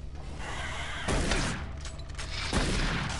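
Rapid bursts of gunfire from a video game weapon, loud and close, with a dense volley opening the clip and fresh bursts around one second and again near two and a half seconds.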